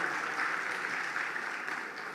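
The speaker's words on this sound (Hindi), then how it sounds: "ताली बजा दो यार अगर एग्री करते हो तो।" Audience applause at a PELS & SELS 2026 event, a steady, even wash of many people clapping together at moderate volume, heard alone without speech.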